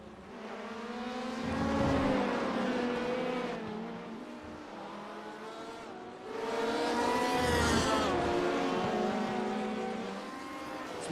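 Race cars in a sportscar racing video game at Mid-Ohio, two swelling passes of loud engines with rising and falling pitch, surging up, fading, then roaring past again with no talk.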